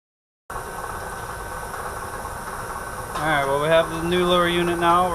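An outboard boat motor, newly fitted with a replacement lower unit, runs at a steady idle with a continuous hum. Partway through, a shifting whine rises and sweeps above the engine note, and the overall level climbs slightly.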